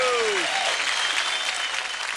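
Loud, dense clapping from a television studio audience on a Hindi drama talent show, steady for about two seconds, with a brief whooshing sound effect at the start.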